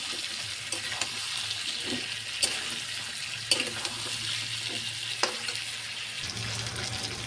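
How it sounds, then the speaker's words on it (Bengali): Spice paste is sautéed with washed taro in a pan for a fish curry with taro, making a low, continuous sizzle broken by intermittent spoon scrapes and clicks, with a faint steady hum behind and no speech. "এখন আমি মশলাটা কষাচ্ছি"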